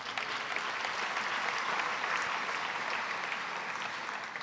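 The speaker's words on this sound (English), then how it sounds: "Give all of yourselves a big round of applause" A large audience at an Armenian Genocide commemorative evening breaks into dense, steady applause that holds at an even level throughout, with a faint whistle rising above it.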